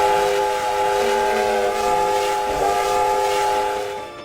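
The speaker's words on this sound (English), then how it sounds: "I heard a whistle in the distance" A steam locomotive whistle sounds in a forest at night, a long sustained chord-like blast that holds steady for about four seconds with a slight shift midway, heard at a distance and fading at the end.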